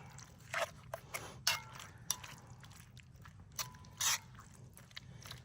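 Stew meat and tomato paste are stirred in a pot on a tent stove while camping. Quiet, intermittent scrapes and clinks come in short bursts over a low background hum.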